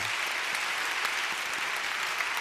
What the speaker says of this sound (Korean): 우리 큰 박수로 우리 환영하겠습니다